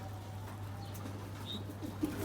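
Soft cooing of pigeons in a loft over a steady low hum, a few faint calls spread across the clip with an occasional light rustle.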